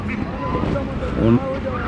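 A duck gives a short quack amid nearby people talking at a busy village duck and chicken market in Hasnabad, Bangladesh.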